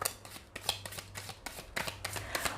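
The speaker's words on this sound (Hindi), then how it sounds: "आज आपके लिए कार्ड्स को लाइव शफल करूँगी" A tarot deck is shuffled by hand at close range, giving quick papery riffles and soft slaps in uneven bursts, fairly quiet, with no speech over it.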